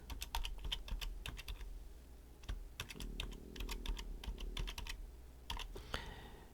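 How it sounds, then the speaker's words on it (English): Rapid clatter of keys on a computer keyboard as an email address is entered, steady close-up tapping in bursts with brief pauses, no voices. "So I will type in my own."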